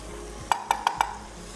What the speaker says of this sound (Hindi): साथ ही साथ कीमे को भी चलाते रहें।